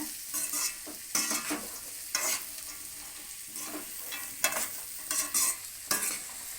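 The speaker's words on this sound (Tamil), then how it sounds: "உப்பு சேர்த்துட்டு நல்லா கிளறி விட்டுருங்க" Bean stir-fry with salt being stirred in a pan, a rhythmic series of scraping stirs over a soft continuous sizzle, close and fairly quiet, with no talk.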